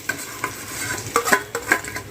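Potato bhaji being stirred into fried garlic in a home kitchen pan, a spoon scraping and clinking against the metal in uneven strokes over a soft steady sizzle, with no one speaking.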